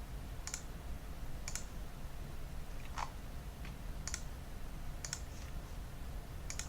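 Computer mouse clicks while selecting edges of a soap dish base in FreeCAD, sharp single and double clicks spaced about a second apart over a quiet room hum.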